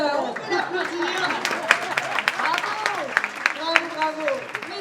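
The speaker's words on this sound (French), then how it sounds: "On peut l'applaudir" A closing-ceremony audience applauds the winner of a short blind test: scattered, moderately loud clapping mixed with voices speaking over it throughout.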